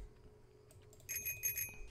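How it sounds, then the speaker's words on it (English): A bicycle-style bell in Untitled Goose Game rings several times in quick succession, bright and metallic, over a quiet background hum. "Gotta ring that goddamn bell."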